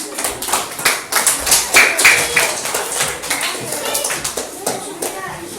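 A group of children claps in a classroom, a quick uneven patter of many hands that swells and then settles, with young voices mixed in.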